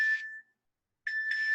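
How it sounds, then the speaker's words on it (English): An incoming-call ringtone chimes from a phone, a bright electronic pattern that plays briefly, pauses for about half a second, then starts again, with no talking over it. "sorry, I'm getting a phone call."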